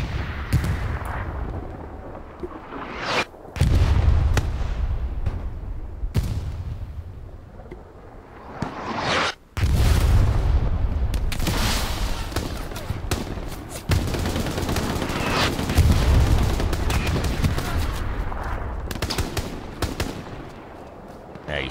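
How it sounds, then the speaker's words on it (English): Artillery fire and explosions in a WWII video game at night, heavy booming blasts and crackling gunfire rolling continuously with brief lulls, loud and dense, with a voice faintly under the din. "Already the artillery is here."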